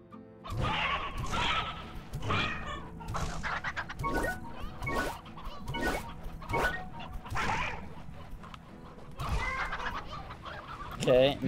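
Roosters clucking in the Slime Rancher video game, a flock of about eight birds giving repeated loud, overlapping clucks and squawks in bursts throughout, with no talk.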